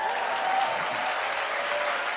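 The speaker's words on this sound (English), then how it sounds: "Give a round of applause for that." Sustained applause from a large crowd at an awards gala, steady and dense clapping filling the whole stretch without pause.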